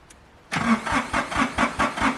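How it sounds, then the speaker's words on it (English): A tractor engine cranks and catches after a brief silence, then settles into a loud, pulsing rough idle with a steady chugging rhythm, close by and alone. "get that tractor started up"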